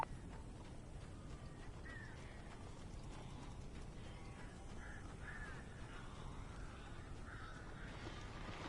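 Faint, scattered crow-like caws in the game Alan Wake Remastered, heard distantly over a low, constant rumbling ambience with occasional creaking, mechanical textures.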